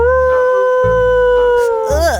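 A puppet-show wolf gives a loud, drawn-out howl, held on a steady pitch before bending up and down at the end, with a brief low rumble underneath.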